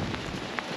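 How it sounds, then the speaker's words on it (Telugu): Hail mixed with rain falls outdoors in the Netherlands, a dense, even patter with scattered sharper drop hits over a brief moment, heard alone. "వాన కాదు, యాక్చువల్లీ ఐస్ క్యూబ్స్ పడుతున్నాయి"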